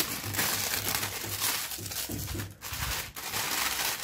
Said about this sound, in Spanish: Y vamos a abrir el empaque de las nuevas almohadillas.